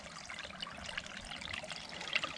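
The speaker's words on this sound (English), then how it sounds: "It just trickles in and out from underground there." Water from an underground spring trickles and dribbles steadily outdoors, a soft, continuous, close burble with small splashy highlights.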